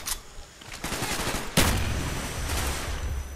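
Gunfire in the Call of Duty Black Ops video game, a loud sharp shot followed by a dense, sustained burst of automatic fire and rumbling battle noise.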